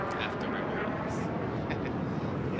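Afterburners on an Aegis Gladius fighter spacecraft in Star Citizen produce a steady, dense roar that fills the whole stretch, with a voice talking over it.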